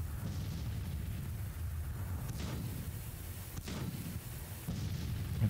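Civil War-era artillery in Grand Tactician: The Civil War, heard as a few muffled distant booms rolling over a low, continuous battlefield rumble.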